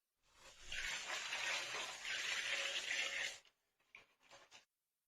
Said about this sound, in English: I'm going to take a container, like this one here, I'm going to pour a little water into it.